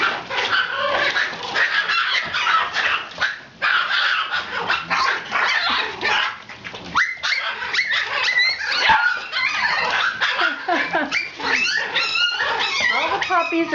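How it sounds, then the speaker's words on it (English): Border Terrier puppies at play bark, yip and whimper in a dense, continuous jumble close to the listener. "All the puppies are playing with their Auntie Brill."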